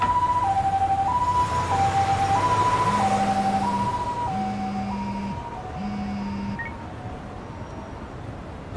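A wailing ambulance siren from the video game Lost Judgment alternates between two pitches in a steady rhythm, loud and close at first and gradually fading, with a low tonal pulse underneath.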